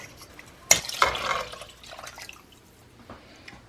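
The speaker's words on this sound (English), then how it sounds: "so I'm gonna put some water in." Water is poured into a pot of Italian wedding soup with meatballs: a sudden splash, then a short gurgling stream that trails off into a few faint drips. No one talks.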